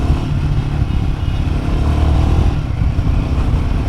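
Royal Enfield Himalayan 450 motorcycle engine running in third gear on a ride, a loud, steady mid-pitched drone with a constant, close rumble and no talk.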